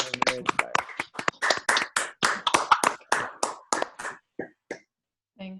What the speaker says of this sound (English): Can I just get everyone to unmute and clap